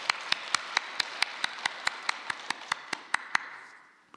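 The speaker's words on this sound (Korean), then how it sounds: "우리 박수 한번 할까요?" Sparse, evenly spaced claps from a church congregation at a mothers' prayer service, about a dozen sharp hand claps in steady rhythm, fairly quiet and fading out near the end.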